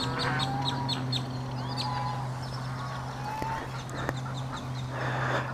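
Ducks and geese calling outdoors, with repeated quacks and honks over a steady low hum, the calls moderately near and overlapping without talk.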